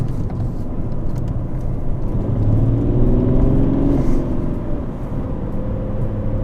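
A diesel BMW 335d drift car built as an M3, tuned to 400 HP and 600 ft-lb of torque, rumbles as it slides sideways. Its engine gives a deep, steady, loud roar that rises and falls slightly.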